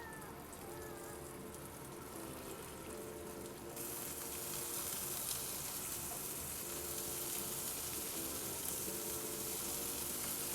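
Chicken livers fry in hot oil in a pan, a steady wash of sizzling and spitting that swells louder partway through and keeps going without any talk.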